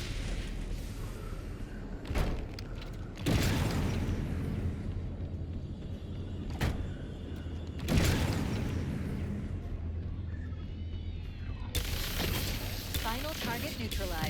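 A Sentinel beam in Halo's campaign cuts down Sentinels: a continuous, rough energy hum roars throughout, broken by several sharp blasts and booming bursts as the targets are destroyed.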